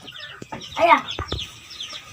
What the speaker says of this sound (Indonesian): masih banyak ayam petelur.